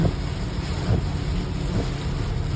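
Heavy rain suddenly pouring down beside a roadside fishing spot in Saipan, a dense steady roar that fills the whole clip, close and loud, with no voices.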